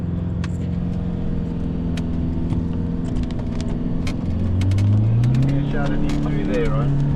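A 4x4 vehicle crawling in low range, second gear, over a badly wrecked wilderness track in Zimbabwe, a steady close engine drone with knocks and rattles, revs climbing toward the end, with a voice speaking over it.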